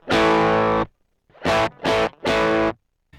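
Electric guitar played through a Neural DSP Quad Cortex capture of a distortion pedal from a pedalboard, giving loud, saturated sustained chords in three or four bursts separated by short silences, with no voices.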